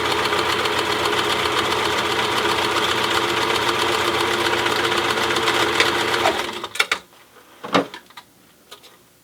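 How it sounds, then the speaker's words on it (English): A sewing machine runs steadily for about six seconds, stitching layers of a cloth protective face mask with a quarter-inch seam, then stops, leaving a few light clicks and handling noises. "using a 1/4 inch seam allowance to stitch the layers together"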